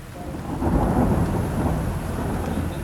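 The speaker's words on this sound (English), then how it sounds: "Dark clouds gather and a heavy downpour interrupts our plans to visit the Cholanaikan colony." A heavy tropical downpour in the forests of Kerala roars in a dense, continuous wash of rain, with deep rolling thunder swelling beneath it near the start.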